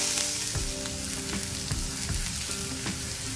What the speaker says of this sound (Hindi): तो सारी चीज़ों को थोड़ा सा हम भून लेते हैं।